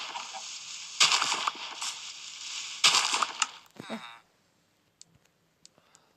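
Dirt blocks are dug in a blocky sandbox video game, with repeated crunchy digging bursts and clicks in quick succession, then near silence broken by a few faint ticks.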